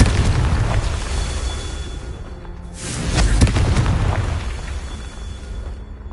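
A Confringo fire-spell blast in the Hogwarts Legacy game during a Merlin trial, a single muffled boom rising from steady rumbling ambience and fading over a couple of seconds.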